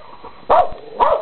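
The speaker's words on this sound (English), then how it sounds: "Why are you barking?" Dog giving two loud, close barks about half a second apart, with quiet room tone between them.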